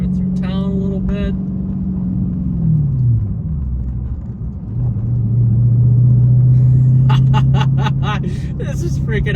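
A Dodge Challenger SRT8 engine drones steadily through town, dropping briefly as it changes pitch around a shift before settling into a loud, even rumble, with people talking inside the car.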